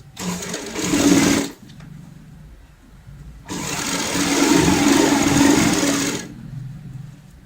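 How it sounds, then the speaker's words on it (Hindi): A sewing machine stitches a half-inch folded seam on a cushion cover at home, running in two loud, close bursts of rapid whirring, the second longer, separated by a quiet pause. "यहाँ पे इस तरीके से सिलाई लगाएंगे फोल्ड करते हुए। आधा इंच चौड़ाई वाली सिलाई लगाएंगे।"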